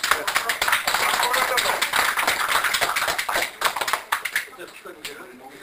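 Small lecture-gathering audience clapping after a talk, a brisk patter of claps from a modest group nearby, tapering off toward the end with voices talking over it.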